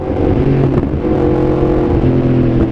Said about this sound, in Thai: เสียงมันเล้าดีนะพอเปลี่ยนท่อแล้วอะ